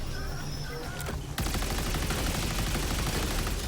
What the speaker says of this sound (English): the lack of recoil still makes it very accurate for as far as automatic weapons go.